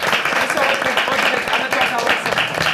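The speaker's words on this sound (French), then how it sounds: "On peut faire des applaudissements." Steady applause from a crowd, dense clapping that holds at an even level throughout.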